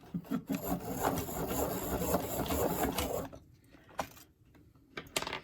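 Neocolor II wax pastel crayons being turned in a handheld sharpener. A close, gritty grinding rasp runs for about three seconds, then breaks off into a few brief scrapes and clicks. No voices are heard.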